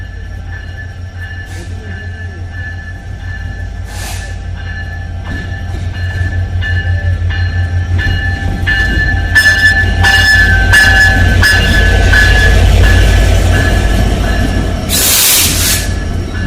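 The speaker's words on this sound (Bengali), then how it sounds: "খুলনা অভিমুখী সীমান্ত এক্সপ্রেস দুই ঘন্টা বিলম্বে পার্বতীপুর এসে প্রবেশ করছে" The Simanta Express, hauled by an EMD GT42ACL locomotive, rumbles into Parbatipur Junction at night, close and loud, wheels clattering and squealing, with a brief high hiss or horn-like burst near the end.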